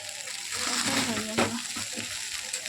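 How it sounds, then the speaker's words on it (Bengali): Close sizzle of ghee fried rice being gently turned in a hot pan, with soft scraping and a brief clatter near the middle; the sound is short and moderately loud. "আলতো হাতে নাড়াচাড়া করছি। ঘি ফ্রাইড রাইসটা প্রায় হয়ে এসেছে"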